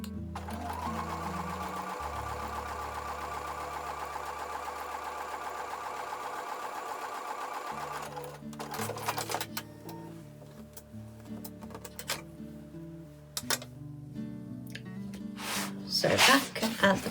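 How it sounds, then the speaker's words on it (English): Sewing machine running a diagonal seam on a quilt, a long steady mechanical whir for several seconds, then shorter bursts of stitching mixed with clicks and handling noises. "take that to the sewing machine and sew a diagonal seam"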